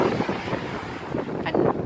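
Strong wind gusting on a blustery March day outdoors, heard as steady rushing buffeting against the microphone with small surges, close and moderately loud, with no one speaking.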